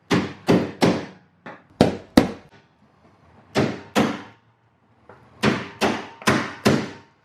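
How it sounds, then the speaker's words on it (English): A hammer drives a chisel and punch through the steel ceiling rivets of a school bus being converted into a skoolie, sharp metallic strikes in uneven groups of two to four, each ringing briefly with pauses between. "If I was me, I'd probably just move along and like punch all of them and then chisel all of them"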